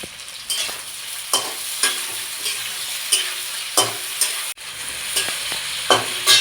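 Slit green chillies dropped into a hot pan of oil with salt and turmeric for a village-style jiyel fish curry, loud steady sizzling broken by repeated scraping stirs, no voices.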